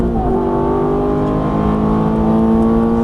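A Ferrari F430 on a racing circuit revving hard just after an upshift, a loud, continuous, high-pitched engine wail heard close and alone, its pitch climbing steadily over three seconds.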